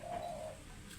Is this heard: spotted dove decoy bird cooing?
yes